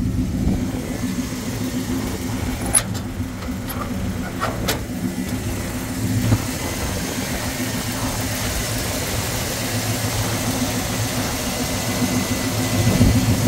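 A 1937 Chevrolet Custom Deluxe with a 350 engine and four-barrel carburetor idles with a steady, low, even rumble, joined by a couple of brief clicks and small bumps.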